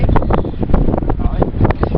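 Strong coastal wind buffets the microphone above rocks and water, a loud, continuous roar with gusty swells throughout, with a little background voice mixed in.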